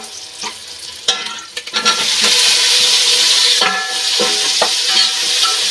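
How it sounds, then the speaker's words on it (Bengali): Tomatoes hit hot oil over fried onions for chicken biryani. A few spatula clacks come first, then a loud burst of sizzle that settles into continuous hissing frying, with occasional stirring scrapes. "টমেটোগুলো ভালো করে ভেজে নেব"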